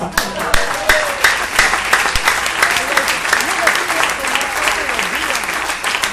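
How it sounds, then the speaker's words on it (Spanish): A church congregation claps loudly in sustained applause, dense and energetic, with voices calling out over the clapping. "Denle un aplauso al Señor."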